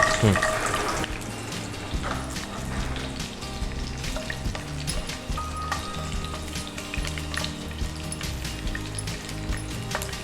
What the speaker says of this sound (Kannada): ಸೊ ಇದು ಒಗ್ಗರಣೆ ಅಲ್ವಾ? ಒಗ್ಗರಣೆ ಅದಕ್ಕೆ.